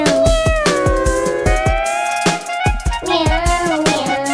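Repeated meows in a Hindi children's rhyme, most likely a voice imitating a cat, sound loud and close over a bouncy, rhythmic musical backing.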